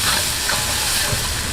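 Red chilies and curry leaves crackling in hot coconut oil for Kerala mutton curry, a loud, dense sizzle and spatter filling the whole moment up close.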